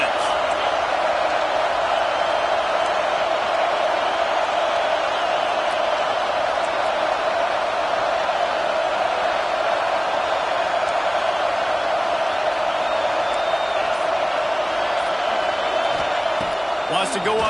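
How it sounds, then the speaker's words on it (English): Steady roar of a college football stadium crowd during a game, a loud continuous wash of cheering and noise that persists evenly throughout, with a commentator talking over it. "This crowd trying to make life miserable for this offense."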